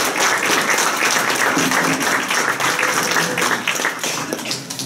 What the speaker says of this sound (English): I'd like for us to give a big round of applause for the founder of our feast and the cook and the chef and chief bottle washer